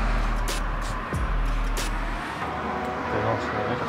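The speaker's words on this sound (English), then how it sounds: "There's also a lot of traffic on the roads." Road traffic rumbling past outside an old abandoned farmhouse, a low steady engine drone with a vehicle swelling by early on, then a lighter, more distant hum as it fades.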